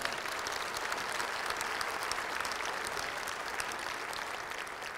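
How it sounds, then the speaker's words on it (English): Steady applause from a large audience at a chamber of commerce annual meeting and awards event in Beaumont, a dense wash of clapping held at an even level for the whole stretch, with no voices rising above it. "Now let's give them all a round of applause."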